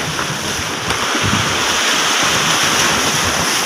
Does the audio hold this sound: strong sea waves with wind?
yes